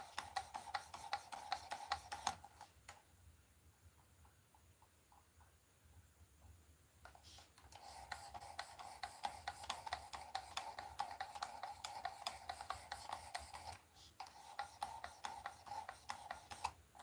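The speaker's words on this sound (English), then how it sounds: "I'm still sharpening that same knife." A steel knife getting its first edge, a steady rhythmic rasping rub of blade on stone that runs in bursts, pauses for a few seconds, then resumes with repeated strokes.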